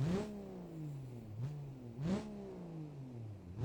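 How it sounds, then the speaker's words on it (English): A car engine in the video game BeamNG revs up repeatedly, its pitch sweeping up and down in several moderately loud pulls with brief pauses between them. "Do I hear an engine?"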